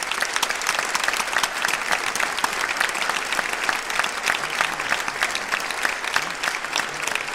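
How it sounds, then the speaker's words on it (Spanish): Sustained, loud applause from an audience thanking the music teacher at a music band event, with dense, steady clapping filling the whole stretch and no pauses. "Un aplauso para él."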